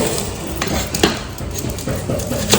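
Onions are chopped on a board at close range, with a few crisp knife knocks over a dense background of kitchen clatter and household noise.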